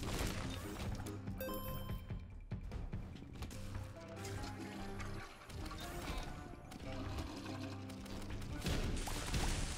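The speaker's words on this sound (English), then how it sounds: "So many fireworks." Crackling bursts of fireworks-style explosions in The Binding of Isaac video game, dense and repeated, mixed over steady in-game music with no talking.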